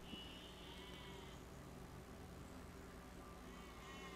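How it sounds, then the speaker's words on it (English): Sheep bleating in the physics building game Besiege, a faint bleat near the start heard over a steady low background drone. "Hello, sheep."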